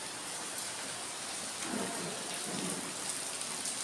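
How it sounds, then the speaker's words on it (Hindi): Heavy rain pours down steadily outdoors, a dense, loud hiss with no pauses, and no voices over it. "देखो बहुत तेज़ बारिश हो रही है, सुबह से ही हो रही है।"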